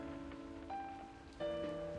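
Soft, steady rain hiss from a scene in the video game Reverse 1999 sits beneath sustained musical tones, with no talking.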